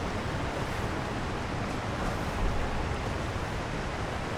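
Waterfall in the video game Elden Ring: Shadow of the Erdtree, a steady broadband rush of falling water, constant and even throughout with no talking over it.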